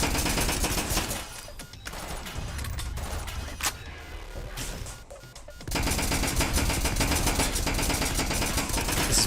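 Rapid nail gun fire in the sci-fi shooter Synthetik: Legion Rising, a dense stream of sharp mechanical shots that drops briefly before resuming loud and steady, with combat clatter mixed in.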